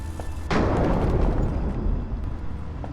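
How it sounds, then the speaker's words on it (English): A sudden deep boom kicks in and rolls on as a sustained, rumbling blast of sci-fi explosions from mining drones blasting asteroids in a space video game, loud and dense, with no talking. "that noise is the sound of my mining drones taking out some asteroids"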